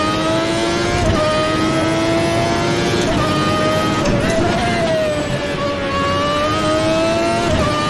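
1991 Formula One car engine in a racing video game, a loud continuous high-pitched wail near the rev limiter with pitch dips at downshifts, heard up close, with someone talking over it.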